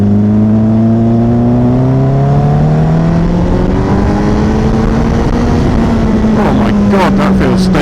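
A 2016 Honda CBR1000RR Fireblade engine rises in pitch as the motorcycle pulls away, loud and close with a steady drone climbing through the gears and a brief rattle near the end.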